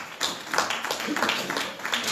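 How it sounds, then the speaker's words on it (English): A community forum audience in Houston's 5th Ward applauds, with a steady, moderately loud wash of many hands clapping throughout, the individual claps blurring together. "So give yourselves a round of applause for being here tonight."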